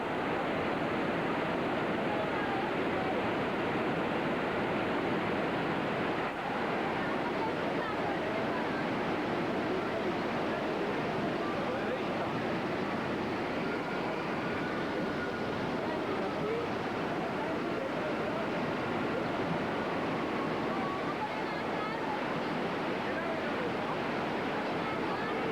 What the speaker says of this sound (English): powerful waves devour the pool and swallow everything in their path